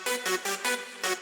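Several synth leads layered together in an electronic arrangement, sounding as five or so loud, bright, sustained chordal hits with a throbbing pulse, with no talking.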